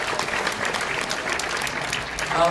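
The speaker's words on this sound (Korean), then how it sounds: "이충건 박사님께도 여러분 감사의 박수를 보내주시기 바랍니다" An audience at a launch event for a local YouTube channel gives a dense, steady round of applause that fills the room, close and continuous, with no voices over it.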